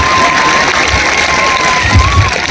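A loud audience at a district cultural gathering comedy and mimicry show claps and cheers, a dense roar of applause with shouts and a high whistle-like tone running through it.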